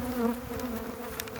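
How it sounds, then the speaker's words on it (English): Bees swarm and buzz around an opened, strong double-stacked four-frame nuc hive, a steady close droning hum with no talking. "I'm getting swarmed with bees"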